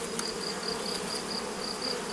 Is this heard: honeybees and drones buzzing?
yes